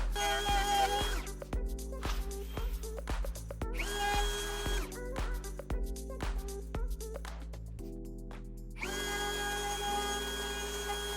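A router tunnels out a wooden mallet made from timber off-cuts, its loud steady whine cutting in repeated passes with brief dips and clicks between bursts, close and without speech.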